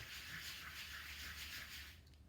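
Steady scratchy rubbing of something wiping writing off a board, continuous for about two seconds and then stopping, fairly close with no talking.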